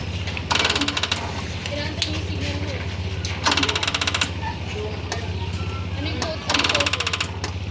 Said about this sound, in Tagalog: Yung tunog na yon, pumipitik-pitik lang yung ating starter kahit na malakas naman yung ating baterya.